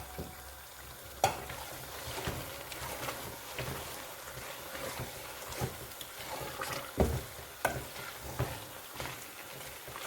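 Haleem with green chilli is stirred and fried in a pot, giving a steady low sizzle broken by sharp scrapes and knocks of the spoon against the metal, close and fairly quiet, with no voices.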